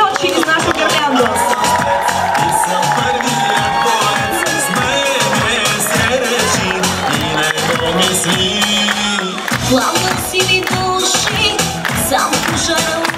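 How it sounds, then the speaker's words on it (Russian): Festival crowd applauding and cheering loudly and continuously, dense clapping mixed with shouts and whoops, with voices calling out over the noise throughout. "Еще раз аплодисменты!"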